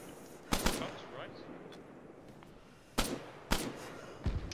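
Gunfire in a military video game, a few sharp, loud shots and short bursts spaced out over a noisy battlefield background.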